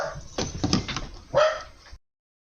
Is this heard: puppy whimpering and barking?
yes